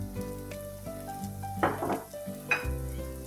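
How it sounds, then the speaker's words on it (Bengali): Tomato chutney cooking in a pan, a steady sizzle and bubbling with occasional scrapes and knocks of a utensil stirring, close and continuous. "আমি এটি আরো কিছুক্ষণ জাল দিয়ে নিব"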